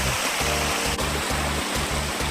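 Continuous rushing of flowing spring water from the Sahyadri hills at Marleshwar, loud and steady throughout, like a nearby stream.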